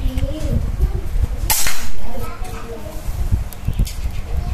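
Predator Immortal air gun firing pellets at a metal target, with one sharp loud shot and a few smaller impacts, close by and under background noise.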